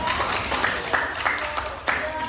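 Applause for a student group after its class presentation in a classroom, a dense, steady patter of clapping with voices chattering underneath throughout.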